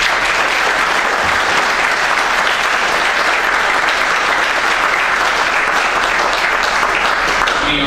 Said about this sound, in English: a big round of applause to them as well